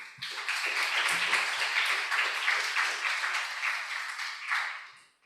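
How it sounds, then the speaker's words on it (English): Steady applause from an audience at an agrifood youth engagement event, dense and sustained for several seconds, then tapering off at the end, with no speech over it. "a round of applause, ladies and gentlemen"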